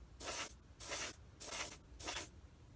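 Four short, even bursts of aerosol spray hiss close by as thinned paint goes on in light coats over a Bandai 1/72 X-Wing Starfighter model, with brief pauses between passes.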